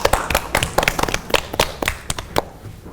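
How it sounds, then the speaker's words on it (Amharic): An audience applauding at a children's stage game show, with separate sharp claps in an irregular rhythm that thin out and fade near the end. "አጨብጭቡ።"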